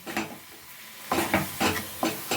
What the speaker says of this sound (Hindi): लो फ्लेम पे इसे हम फिर से भून लेंगे।